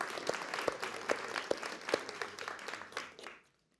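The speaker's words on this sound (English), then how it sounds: "Please give our partners and give yourselves a round of applause." An audience at a panel event on fighting digital misinformation gives a round of applause. Dense clapping with a few sharp individual claps stands out, then it fades and stops near the end, leaving silence.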